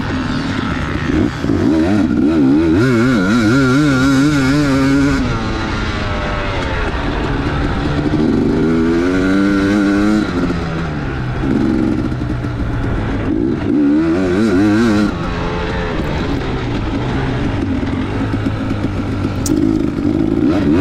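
A KTM motorcycle races at high revs on a fast, smooth grass track, its engine wailing loudly and sliding up and down in pitch through repeated gear shifts, close and constant.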